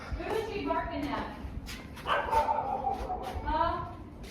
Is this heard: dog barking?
yes